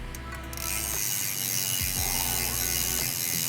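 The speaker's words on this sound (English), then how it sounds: "if you want to hear how cool his rear wheel sounds, check this out." Rapid, steady clicking of a Specialized S-Works Epic mountain bike's freewheeling rear hub ratchet, close and fairly loud, with a few brief shifts in pace and no talking.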